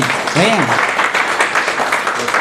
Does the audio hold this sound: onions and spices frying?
no